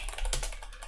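Rapid computer keyboard typing in a touch typing program, a dense, steady patter of close key clicks with no pauses.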